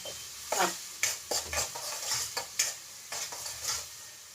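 Brinjal roasts in oil in a pan, with soft sizzling beneath repeated scraping stirs and light clinks of a utensil against the pan, close and fairly quiet.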